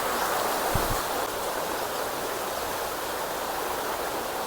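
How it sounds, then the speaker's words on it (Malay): A fast-flowing river rushes past near a remote indigenous village settlement, a loud, dense, unbroken roar of churning water with no voices heard. "Tu dia air deras."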